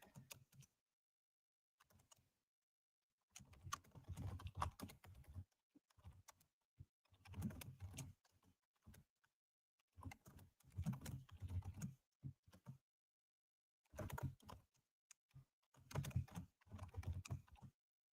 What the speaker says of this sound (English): I type it out every Asia session